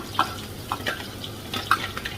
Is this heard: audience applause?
no